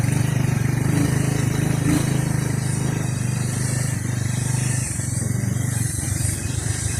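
A motorcycle engine drones steadily during a countryside road trip, with a close, continuous, even hum and no voices.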